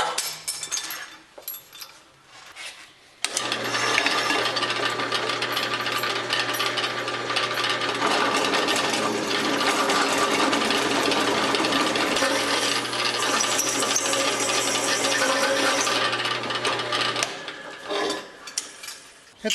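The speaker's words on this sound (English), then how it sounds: "Now I'm just going to drill in the 5/8." A power drill bores a 5/8 inch hole through a 1/4 inch pilot in a boat trailer tow bar, a loud, steady grinding whine that runs unbroken for about fourteen seconds before stopping abruptly, with a low hum underneath.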